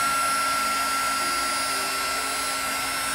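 A heat tool blows steadily over embossing powder on a card, a continuous close whirring hiss with a high whine and no talking.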